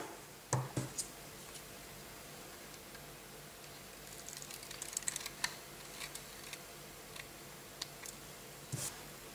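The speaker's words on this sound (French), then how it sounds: "Avec mon ciseau, je viens couper l'excédent de papier vélin." Scissors snip through excess vellum paper during a festive menu-stand craft, a few brief crisp cuts near and clear over quiet room tone, with faint scattered ticks between them.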